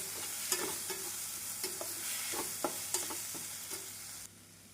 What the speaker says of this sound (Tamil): நாம் மசால் பொடி போட்டு மிதமான சீயில் ஒரு நிமிடம் வதக்க வேண்டும்